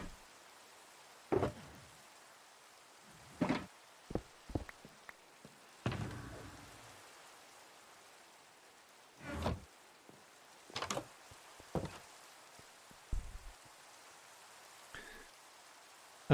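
Rain falling in a video game, heard as a faint steady patter broken by scattered louder drops and thuds spread through the scene, with no talking.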